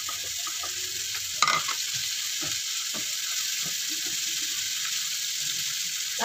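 Galunggong fish going into a frying mung bean dish, with a steady sizzle of hot oil throughout, a sharp splash and clatter as the fish drops in early on, and occasional scraping stirs.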